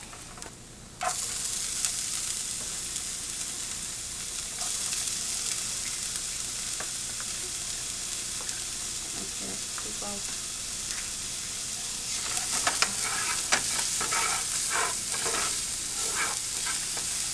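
Garlic and food frying in a pan, a continuous close sizzle, with stirring and scraping clatter growing busier toward the end.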